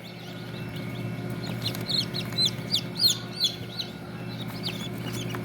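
Tiger breed chickens cluck at a hatchery in Bakshiganj, Jamalpur, giving a run of short, bright calls over a steady low hum of background noise.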